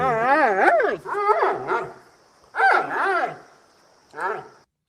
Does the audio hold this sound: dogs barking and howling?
yes